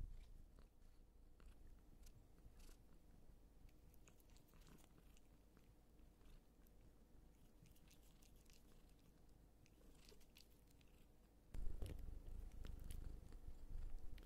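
A cat bites and chews food, giving close, soft crunching and wet chewing sounds that run steadily, then grow louder and denser near the end, recorded on an ASMR microphone with no talk.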